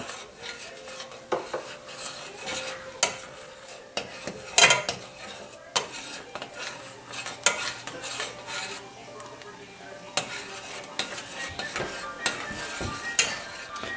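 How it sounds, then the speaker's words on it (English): A spoon stirs a thick escargot sauce in a pan, with repeated scraping and clinking against the metal. The sound is fairly close and continuous, with small knocks spread through it. "Keep stirring."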